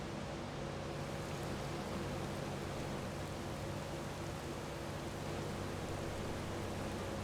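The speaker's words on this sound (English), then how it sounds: "now it's very clearly raining" Steady rain in the farming video game Farming Simulator 25, a constant hiss of falling drops holding at an even level from start to finish with no voices.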